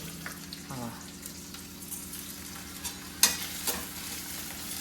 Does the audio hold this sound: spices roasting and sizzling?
yes